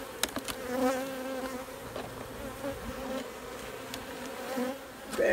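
Honeybees at an open beehive, a dense steady droning buzz close by with occasional louder passes of individual bees, no voices.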